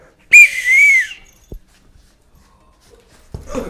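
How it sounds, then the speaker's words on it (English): A loud, sharp referee-style whistle blast lasting about two-thirds of a second at the start of a basement soccer/hockey game, followed by a soft thump and, near the end, a brief rustle of movement. "Wait for the whistle."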